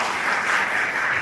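A brief burst of audience applause at a school awards ceremony, a dense wash of many hands clapping at moderate loudness, with no talking over it.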